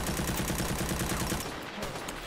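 Fast automatic gunfire in Zero Sievert, a tight rattling burst of rounds that stops abruptly partway through, leaving a brief quieter tail.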